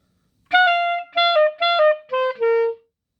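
A clarinet plays the closing phrase of a tune, five clear sustained notes in a steady rhythm that ends on a long held altissimo D, solo and close with no talking.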